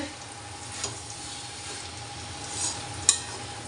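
Cabbage fries in hot oil in a home kitchen pan, giving a quiet, steady sizzle broken by a few soft scrapes and a sharp clink of the stirring utensil.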